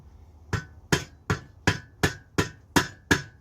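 Eight even, close taps as a greased roller bearing holder is gently knocked onto the shaft of a Scott Bonnar 45 17-inch cylinder mower, a steady rhythm of light dull knocks with short decays.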